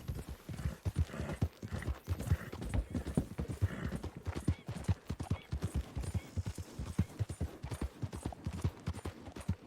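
Hoofbeats of a horse being ridden in Red Dead Redemption 2 drum out a steady, rapid galloping rhythm throughout, close and continuous with no voices.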